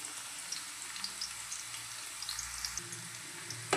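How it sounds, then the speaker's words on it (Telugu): Thinly sliced onion and curry leaves frying in oil for a stuffed brinjal dish, with a soft, steady sizzle and a few faint crackles, quiet throughout with no talking. "సన్నగా కట్ చేసుకున్న ఒక ఉల్లిపాయను కూడా ఆయిల్లో వేసేసుకున్నాము. అలాగే కొంచెం కరివేపాకు,"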